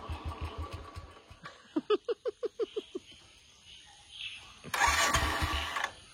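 A motorcycle engine starts with a quick run of about eight evenly spaced cranking pulses, then catches and settles into a louder, rough idle nearby.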